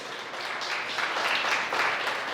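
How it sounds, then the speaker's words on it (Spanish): A church congregation claps together in praise, a dense, steady wash of applause that swells slightly and holds for a couple of seconds without any talk over it. "Dale un aplauso a Dios por eso."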